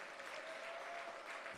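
An audience at a wealth summit gives a round of applause, a quiet and even wash of many hands clapping that continues steadily throughout.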